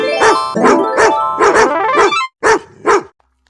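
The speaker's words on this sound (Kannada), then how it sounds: "ಹೊಯ್ ಹುಯ್ ನಾಯಿ ನಾಯಿ" Street dogs bark in a close, loud series of about seven sharp, evenly spaced barks, with brief gaps near the end before the sound cuts off.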